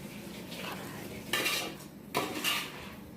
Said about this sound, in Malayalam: ഇങ്ങനെ അടപ്പ് വെച്ച് ഞാനിത് മൂടി വെക്കുകയാണ്